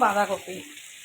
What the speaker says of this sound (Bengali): এবার দিয়ে দেবো আলু, দিয়ে এটা আর একটু ভাজতে থাকবে।